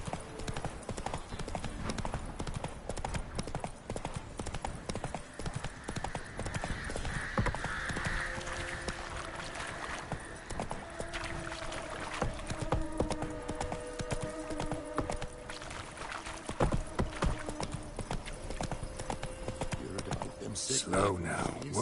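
Roach the horse galloping in The Witcher 3, hooves pounding in a fast, steady clip-clop rhythm that runs the whole time, close and loud amid game music and ambient sounds.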